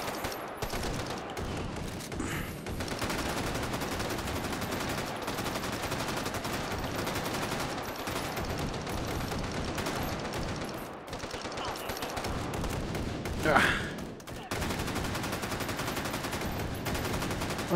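Sustained automatic gunfire from FAL rifles in the VR shooter game Hot Dogs, Horseshoes & Hand Grenades, a dense continuous fusillade with brief lulls and one sharp ricochet-like ping, loud and close throughout.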